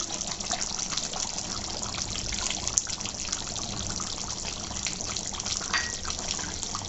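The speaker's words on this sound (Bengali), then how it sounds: "আমি একটু দিব কেওড়া জল" Kewra water trickling into a pot of beef korma, a soft continuous pour with faint splashing over low kitchen rumble, steady and close throughout.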